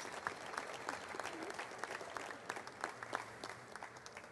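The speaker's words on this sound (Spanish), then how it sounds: "pide un fuerte aplauso para Andreu Bea." Applause from a conference audience welcoming a speaker at an internet talk, steady and moderately distant with individual claps standing out, no talk over it.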